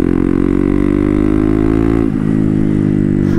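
A turbocharged Honda Grom motorcycle with a swapped-in CBR engine pulls under light throttle, its loud, steady engine drone rising smoothly in pitch, heard close and continuous from onboard with no talking.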